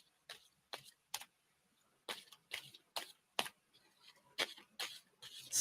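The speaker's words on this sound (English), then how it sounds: "tell me when to stop shuffling" Tarot cards are shuffled by hand in a quiet room, a string of short, crisp riffling bursts at irregular intervals with brief pauses between them, close and soft, with no talking.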